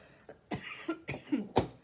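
A person coughs several times in a short, close burst, a few rough hacking coughs with brief gaps between them.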